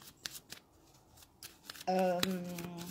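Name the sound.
shuffling oracle cards for a reading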